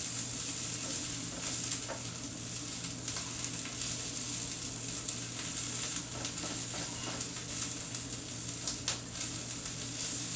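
Green beans and onions sear in oil and butter, giving a continuous soft sizzle with small crackles and occasional stirring, close and fairly quiet, with no talking.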